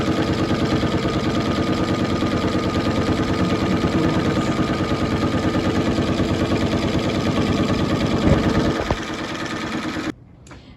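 A sewing machine stitches clear vinyl on a teacher apron in a fast, steady, close mechanical whir that runs unbroken for about ten seconds, then cuts off abruptly, with no voices.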